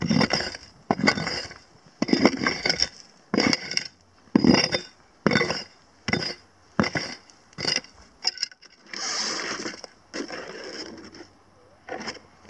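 Rock is scraped with a hand tool while prospecting for gold, a series of about a dozen rhythmic gritty scrapes and clinks, close and loud, with a longer rasping stroke near the end.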